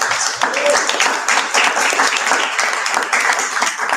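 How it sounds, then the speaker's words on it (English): Audience applause for the organizers at the close of a youth conference workshop, a steady wash of many hands clapping near and loud for about four seconds, with some voices mixed in. "Let's give the organizers another round of applause."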